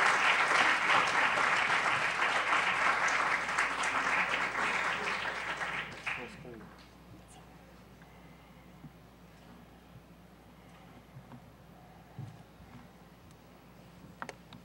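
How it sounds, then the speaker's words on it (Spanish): A school audience at a history lecture gives a loud burst of sustained clapping for about six seconds, then it dies away into quiet room noise with a few faint stray sounds. "Recibámonos con un fuerte aplauso"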